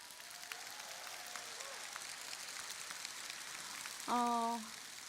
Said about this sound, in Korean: 여러분 저희 남편을 위해서 박수 부탁드리겠습니다.